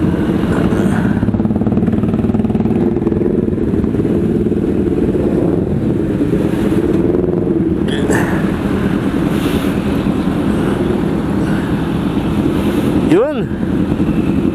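A Yamaha Sniper 155 VVA underbone motorcycle engine runs steadily among big bikes, its close, continuous rumble mixed with heavy wind buffeting for the whole stretch.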